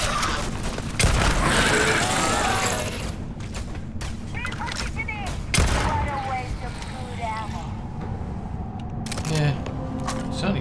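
Gunfire in the Starfield space game, rapid bursts of shots and booming impacts clustered in loud volleys, with mechanical clanks and short pauses between them, dense and close.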